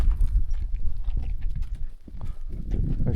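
Horse hooves clip-clopping at a walk along a desert trail on a plateau edge, a close, uneven rhythm of thuds and scuffs with a short lull midway, no talking.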